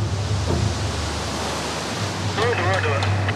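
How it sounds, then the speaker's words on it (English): Violent ocean surf pounds in a steady, loud broadband roar at a beach rescue in Bali, with faint voices briefly audible near the end. "Whippet helps rescue three swimmers being pounded by violent waves."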